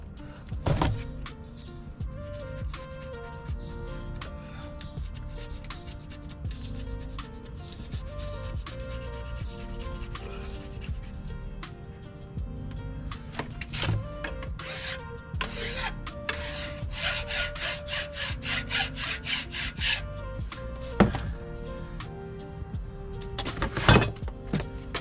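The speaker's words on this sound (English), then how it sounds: "So we are going to have to clean that gasket surface up." Old RTV gasket material is scraped and cleaned off the front differential gasket surface of a 1992-97 Ford F350, a long run of close, gritty rubbing and rasping strokes with sharp metallic scrapes and clicks.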